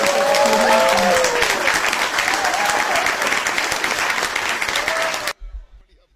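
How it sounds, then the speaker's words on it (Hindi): A crowd at a Hindi poetry gathering bursts into strong, sustained applause with voices mixed in, the clapping staying loud and dense before cutting off abruptly near the end. "इतनी कमजोर तालियां नहीं मित्रों, जरा जोरदार तालियां बजाकर"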